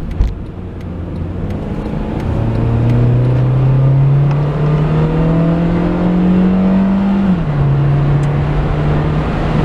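Engine of a 2013 Honda Fit, heard from inside the cabin, drones steadily as the car accelerates onto a highway toward 60 mph, with its pitch rising slowly, then dropping briefly at a gear change before climbing again.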